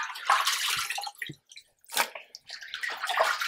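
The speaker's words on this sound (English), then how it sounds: "I'll take these fish out of the water and let them just kind of drain off a little bit" Water trickles and drips in short splashy bursts off rinsed crappie, with a brief quiet pause midway before the pattering resumes, close and fairly soft.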